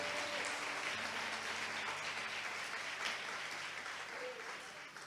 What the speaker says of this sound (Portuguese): Você pode aplaudir ao Senhor pela sua palavra agora?